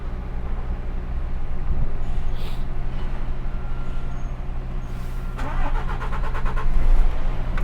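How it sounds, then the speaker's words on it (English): Truck engine starting and building up air pressure before a crossing to the Isle of Wight, heard as a steady low diesel rumble throughout, with a sharper mechanical rattle and rising engine noise in the last two seconds; no talk. "Let's start me engine, build me air up."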